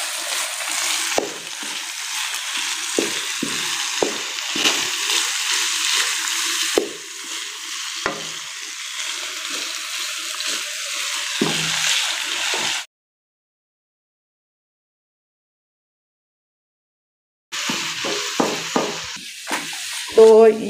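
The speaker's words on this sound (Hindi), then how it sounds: "अब इनको जी करते हैं मिक्स इस तरह कीमे में" Cooked eggs stirred into sizzling minced meat in a hot pan in a Pakistani village kitchen: steady frying hiss with repeated scraping stir strokes, loud and close, broken by a few seconds of silence before the sizzling resumes.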